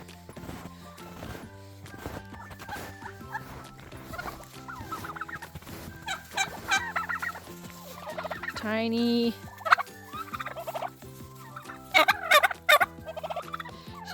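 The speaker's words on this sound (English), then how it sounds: "Hello, turkeys." Turkeys gobbling outdoors on a hot day, several bursts of loud rattling gobbles from a nearby flock, some overlapping, with a short spoken word and hoof-like clatter in between.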